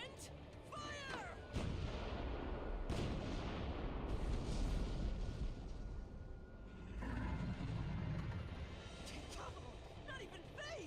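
Cannon fire aimed at a black dragon in the game Rune Factory: Guardians of Azuma, a string of heavy booming blasts and rumbling shots with whooshing effects, mixed under game voices and music.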